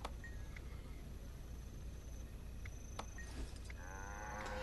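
A cow in the video game Guild Wars 2 moos once in a low, drawn-out call over a steady ambient hum, with faint high chirps around it.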